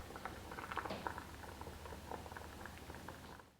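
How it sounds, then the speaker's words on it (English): Hot water from boiled pappardelle pasta pours and splashes through a drain in a kitchen, a steady low hiss with bubbling patter throughout, fairly faint and with no voices. "Reserve some of the pasta water before draining."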